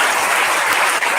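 Applause from a congregation at a Hindi-language Christian church service in Varanasi, a dense, steady clatter of many hands filling the room, loud and continuous with no talk over it.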